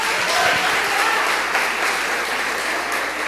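A church congregation at a worship conference applauds, a broad, continuous wash of many hands clapping in a large room, steady and loud from start to end, with a faint voice beneath.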